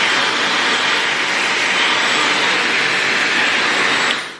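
A Dyson hair dryer blows a loud, steady rush of air with a strained, choked tone, running continuously before cutting off at the end.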